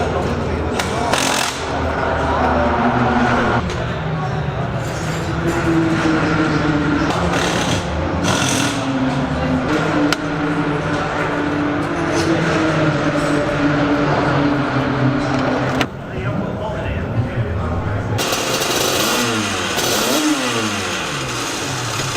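Superkarts reaching 145 mph race at Silverstone, their engines rising and falling in passing whines and revs over a steady roar, with a sharp drop and fresh surge of passing engines later, and people talking nearby.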